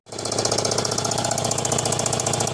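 A Mitsubishi Eclipse with an exhaust silencer fitted starts up and settles into a steady, rhythmic idle, a close, continuous throbbing engine note with an even pulsing beat and no voices.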